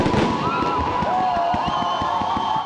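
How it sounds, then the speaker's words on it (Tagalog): New Year fireworks over the Champs-Élysées in Paris, with rapid rhythmic pops and crackles alongside whistling rockets above a large outdoor crowd's murmur. "Libo-libo nagtipon sa Champs-Élysées Avenue para saksihan ang maingay at"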